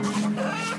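Chickens cluck close by in a short burst of throaty, murmuring clucks, with no voices over them.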